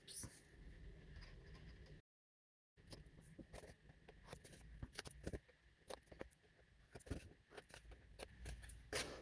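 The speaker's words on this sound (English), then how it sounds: "we're going to cut a little notch off each of those flaps." Scissors snip notches into cardstock flaps for a small papercraft vanity unit with drawers, producing a series of quick, close, irregular clicks and cuts, with a brief gap of silence partway through.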